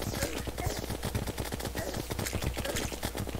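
A rapid-fire Minishark gun blasts in a dense, continuous stream during a Terraria pirate invasion, loud and close, with game sounds layered over it.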